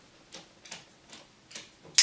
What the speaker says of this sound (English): the clicker, another benefit of using that is that it has a distinct but also a consistent sound every single time